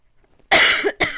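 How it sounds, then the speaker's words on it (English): Two close, sharp coughs after a moment of silence, the first longer and rougher, the second short. "Sorry for coughing in your ear."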